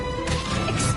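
Confringo blasting spell striking in the Hogwarts Legacy video game, a single sharp crashing burst over a humming game background, loud and brief.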